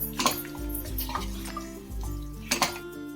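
Mutton sautéing in ginger garlic paste in a pot, with a spatula clinking and scraping against the metal in a few soft strokes over a low, quiet background; nobody talks.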